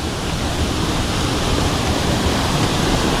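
Payaran Falls in Brgy. Mascap, Montalban, Rizal roars as a steady, loud, dense wash of falling water, unbroken for the whole stretch with no voices.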